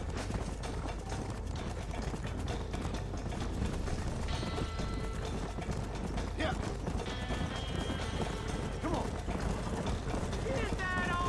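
Horse hooves clip-clopping in Red Dead Redemption, a spooked horse after a gunshot, as a steady run of clopping beats under busy game noise and mechanical clatter, with someone talking over it.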